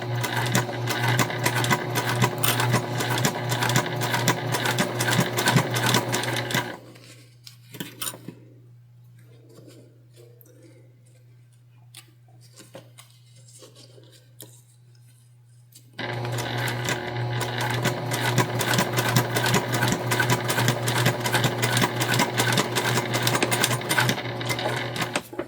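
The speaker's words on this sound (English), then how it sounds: "then we're gonna top stitch our material" Sewing machine top-stitching tote bag material, running loud and steady for several seconds, pausing into quiet with faint handling noises, then resuming its fast continuous whir; a low hum persists throughout.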